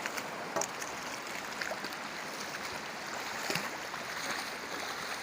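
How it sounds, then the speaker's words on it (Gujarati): Soft, steady rush of water flowing over an overflowing check dam, with a broad hissing texture and a few faint knocks, fairly quiet and continuous. "હમણાં પાણી ચાલુ છે"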